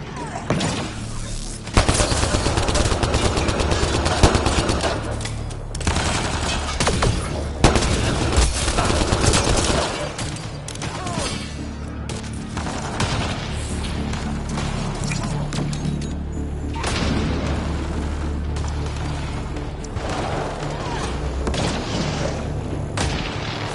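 Enemy gunfire in the video game Mass Effect: repeated loud bursts of shots and booms scattered through a long firefight, some rapid volleys, some single cracks, with occasional voices underneath.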